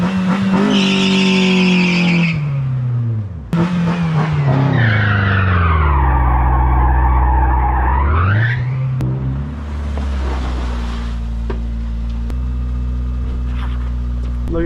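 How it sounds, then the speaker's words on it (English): An SR20-powered Infiniti G20 doing a front-wheel-drive burnout: the engine revs up and holds high while the tires squeal loudly, then the revs drop and tire noise continues with rough scrubbing, close and loud throughout. "Infiniti G20 burnout."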